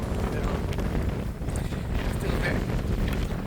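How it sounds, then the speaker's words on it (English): Strong wind on the Cambrian Way hiking trail in Wales buffets the microphone with a constant, low rumbling roar and gusty surges, no other sounds standing out. "Still very windy."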